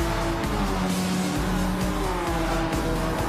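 Race car on a wet Tokyo expressway in a racing video game, its engine whining steadily while the tires skid and slide on standing water, a continuous loud rush with no speech.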